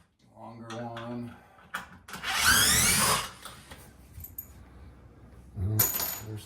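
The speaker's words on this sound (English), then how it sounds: "these are all these are the screws that were used like for the same fastener locations." Old fastener screws from a mudroom renovation clink and rattle together in a hand, with a burst of scraping metal jingle in the middle and another at the end, while a person talks briefly at the start.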